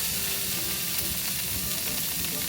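Fatty A5 wagyu sizzles in a heated pan, giving a steady, dense hiss and crackle of frying fat that holds at a constant level throughout, close and with no talking.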